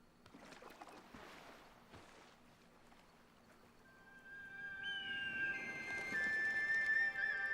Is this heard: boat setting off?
yes